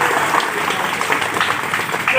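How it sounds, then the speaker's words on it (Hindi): Audience applause at a local competition event in a Giridih village, steady dense clapping from a crowd filling the whole stretch, with some talk mixed in. "सब कोई ताली बजाइए।"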